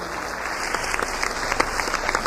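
A church congregation applauds warmly during a sermon, a dense, steady wash of many hands clapping together, fairly close and sustained throughout.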